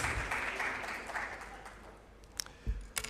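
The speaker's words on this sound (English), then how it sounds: "Please, let's give her that big round of applause." An audience at an ATM innovation road show in Accra, Ghana gives applause for the country manager, a moderate wash of clapping that fades over a few seconds, followed by a couple of sharp knocks.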